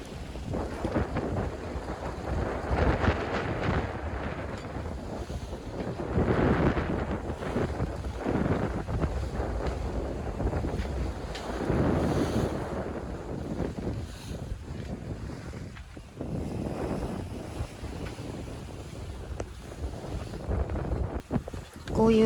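Aboard a sailboat crossing the Pacific, strong wind buffets and roars in gusts against the microphone, with the rushing wash of waves underneath and rising and falling throughout.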